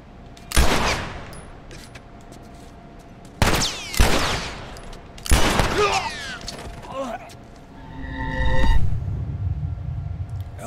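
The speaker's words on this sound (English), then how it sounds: "Close range gun shoot." Close-range gunfire in the game The Last of Us, several loud, sharp shot blasts in quick bursts, each trailing off with ringing and mechanical clatter, followed by a rumbling swell near the end.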